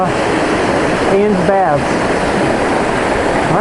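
Steady roar of a waterfall at Ann's Baths on Mount Washington fills the whole clip, loud and constant, with someone speaking briefly over it.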